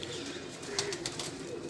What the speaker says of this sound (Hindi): उसी का कबूतर एक निकाला हुआ इन्होंने